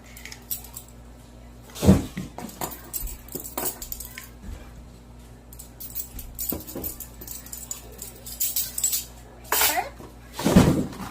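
Salt and baking powder being mixed into biscotti dough in a bowl, with irregular clinks and scrapes of a utensil against the bowl and a couple of louder knocks, fairly quiet overall.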